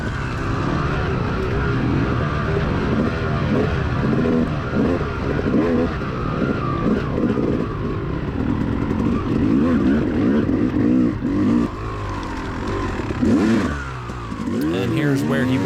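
A two-stroke motocross bike races in a cross-country event, its engine revving and blipping continuously up close with rising and falling pitch, while someone talks over it.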